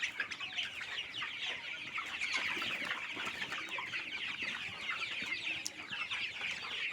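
A dense flock of chickens on a poultry farm, some mildly affected by a cold, clucks continuously and loudly, with overlapping calls forming a steady chatter and no talking.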